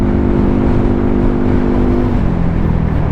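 A 2022 Yamaha NMAX scooter engine drones steadily while riding, a loud continuous hum with a steady low note that eases slightly near the end, heard alone without talk.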